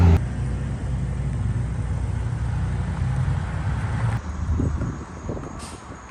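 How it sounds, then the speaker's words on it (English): Traffic on road 896 rolls past in a steady low rumble, a heavy vehicle droning near for the first few seconds before easing off, with fainter passing cars and a brief hiss near the end. "Cars. I know it's unpleasant to listen to."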